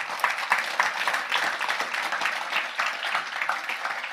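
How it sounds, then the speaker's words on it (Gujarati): An audience at a spiritual katha discourse claps in a dense burst of applause that holds at a fairly even level for several seconds, with no voice above it. "તાળીથી"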